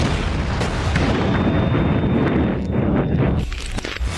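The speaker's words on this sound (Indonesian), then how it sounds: "barulah Verdun dibombardir secara besar-besaran" Heavy artillery bombardment of Verdun in World War I, dense continuous rumbling booms and blasts layered over one another, loud and sustained throughout with no gaps.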